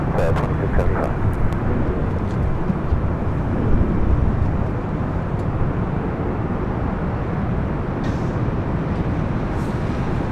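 A Southwest jet takes off from runway 24 Left at LAX, a broad, loud engine roar that swells and holds, with voices talking over it.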